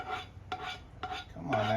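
A utensil stirs onions, garlic and tomatoes into meat in a pan, making about four distinct scraping strokes in a loose rhythm, close and moderately quiet, with no talk.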